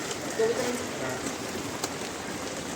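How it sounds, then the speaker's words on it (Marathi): Steady rain patters on surfaces, a soft continuous hiss with a few distinct drops, under faint talking. "बघू शकता तुम्ही पाऊस येत आहे"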